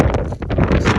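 Wind gusts roar and buffet a microphone outdoors during a Colorado blizzard, a loud continuous rushing that swells and dips without a break.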